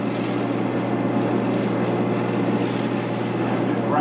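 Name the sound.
wood lathe scraping cut on a turned wooden platter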